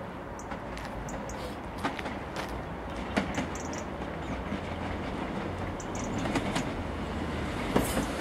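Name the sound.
Network West Midlands Class 150 train passing station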